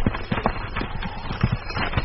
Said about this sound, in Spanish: este caballo se me puede arrancar